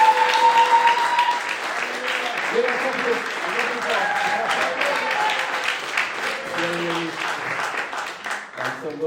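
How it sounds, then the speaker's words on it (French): A church congregation claps and cheers in a reverberant hall during a French-language service, sustained applause running throughout with voices and sung or shouted tones layered over it. "Est-ce qu'on peut acclamer et applaudir au Seigneur avec la joie?"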